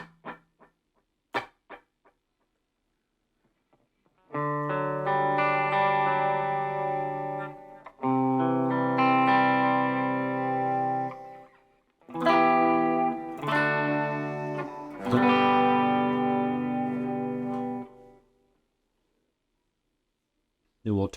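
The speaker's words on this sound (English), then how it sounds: "Just a light delay is what that sounds like." Electric guitar chords ring through a light delay pedal on a worship pedalboard, sustained strums with a faint repeating echo tail, a few string clicks and noise before and after.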